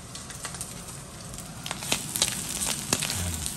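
Mushrooms sauté in oil in a pan over high heat, giving a steady sizzle with scattered crackles and pops close by, and no talking.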